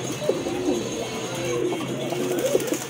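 A pigeon at a pigeon sale coos nearby in a few soft, rolling, repeated phrases against a light background hum.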